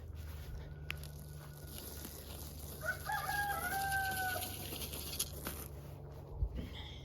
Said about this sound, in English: we're gonna go let the chickies out